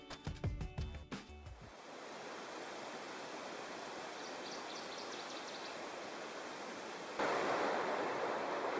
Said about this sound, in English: And there's the falls, which is definitely impassable.